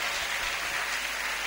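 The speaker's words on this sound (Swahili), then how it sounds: "Tumpikie Bwana makofi." A church congregation applauds in a dense, even wash of clapping that holds steady throughout, with no speech.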